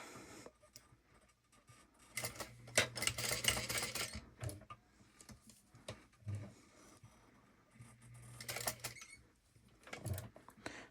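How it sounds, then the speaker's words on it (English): A home sewing machine top stitching fabric at a long stitch length runs in two short bursts of quiet mechanical whirring and rapid needle chatter, with near-silent pauses between, no voices present. "we're going to turn our machine on and we're going to top stitch at a number 5 stitch length"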